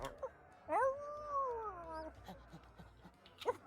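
A dog in the pirate video game Sea of Thieves gives a single drawn-out, wavering howl that rises and then falls away into quiet whimpers, with no talking over it.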